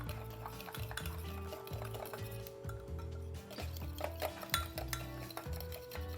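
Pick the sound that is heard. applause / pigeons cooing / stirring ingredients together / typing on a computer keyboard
stirring ingredients together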